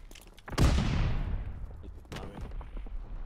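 A PPSh submachine gun fires in a first-person shooter video game: a rapid burst that rings out and decays, then a second, shorter burst, moderately loud amid quiet game noise.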